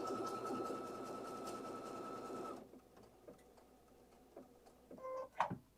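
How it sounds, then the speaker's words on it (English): A Baby Lock sewing machine stitches with a fast, steady close whir that ends abruptly, followed by quiet clicks and a brief whirring as it finishes the stitch and stops. "it's going to go to the end of that stitch for us and stop"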